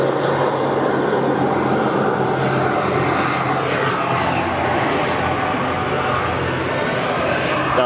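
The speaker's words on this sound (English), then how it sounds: "That was a jet that just flew over." A jet flies low overhead, making a loud, continuous roar that fills the whole stretch without fading.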